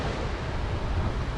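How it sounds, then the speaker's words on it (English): Ocean surf at Pensacola Beach washes up onto a shelf and pulls shells back, a loud, close, continuous rushing roar mixed with wind buffeting the microphone. "surf comes up, it's hitting this shelf and pulling the shells back"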